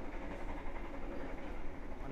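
The KA Gumarang train rumbles steadily, heard from inside the restaurant car at night, a faint continuous rolling noise with no clear speech.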